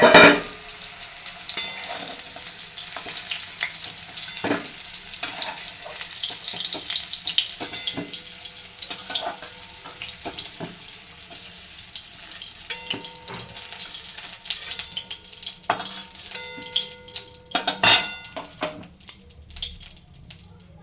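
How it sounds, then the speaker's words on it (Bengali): Medium-sized capsicum pieces fry in a kadai, giving a continuous loud, close crackling sizzle for about twenty seconds, broken by occasional sharp clicks and spatters. "দেখুন, ক্যাপসিকামগুলো ভাজা হয়ে গেছে।"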